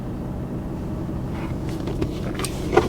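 A Mercedes C-Class estate, bought as a non-runner, idles with a steady low engine rumble close by, with a small clunk near the end and no talk.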